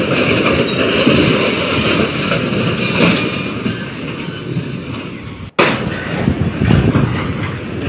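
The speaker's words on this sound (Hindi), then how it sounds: "ये मालगाड़ी थी जो जाकर यहां पर पहले से खड़ी हुई एक मालगाड़ी से जा टकराई है" Freight train colliding with a stationary freight train in Jharkhand: a loud continuous rumble of heavy rail cars with metallic screeching and clatter, a brief dropout, then the roar resuming.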